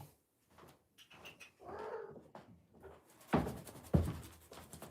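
A cat meows a few times up close, the cries rising and falling, with some soft rustling and bumps toward the end.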